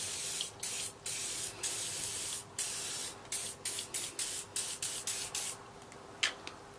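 Repeated short bursts of WD-40 penetrating oil sprayed from an aerosol can onto tools crusted with hard cement, a rapid series of close hissing squirts with brief pauses between them.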